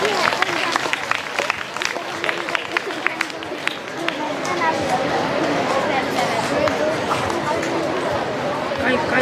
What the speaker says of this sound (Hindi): तालियों के साथ फादर का मंच पर स्वागत करेंगे